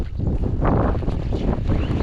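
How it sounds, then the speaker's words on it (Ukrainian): Strong wind with rain buffets the microphone in a loud, continuous rumbling roar, gusting unevenly for the whole moment. "сильний вітер, дощ"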